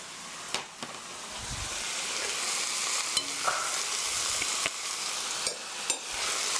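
Pear fried rice is stirred in a hot pan over low heat, a steady close sizzle with scraping strokes and sharp utensil clicks against the pan at irregular intervals.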